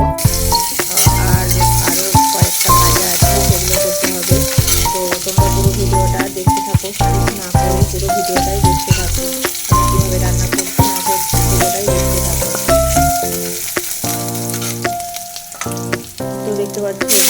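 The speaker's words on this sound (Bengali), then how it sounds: "শাকটাকে একটু রসুন দিয়ে শুকনো লঙ্কা ফোড়ন দিয়ে" Boiled greens frying in a pan with garlic and dried red chilli, a loud, continuous sizzle with repeated clatter and scrapes of stirring throughout, no voices.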